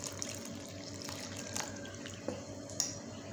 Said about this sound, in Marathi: गुळाचं पाणी टाकून